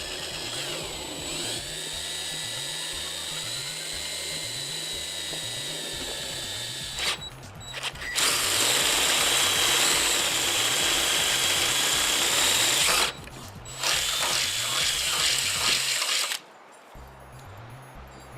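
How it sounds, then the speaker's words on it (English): A handheld power drill bores mounting holes for a curved 50-inch light bar bracket, whining steadily in long continuous runs with brief pauses and restarts, loud and close. "So we're going to go ahead and start drilling our holes now."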